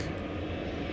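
A Turkish Airlines airliner bound for Istanbul passes at night near Dallas Fort Worth airport, its engines a steady, distant droning roar over one unbroken second.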